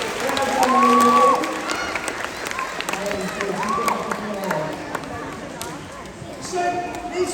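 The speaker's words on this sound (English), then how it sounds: "Yeah, give you a big round of applause. Well done, Louis." Audience applause and cheering at a sea lion show at Knowsley Safari Park, a mixed crowd roar with scattered claps and whistling calls, heard under a presenter's talking.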